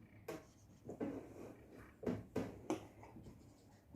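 Pen writing the area formula for a trapezium on paper or a board during a Class 8 maths lesson, a few short scratchy strokes in bursts, close and fairly quiet, with no talk.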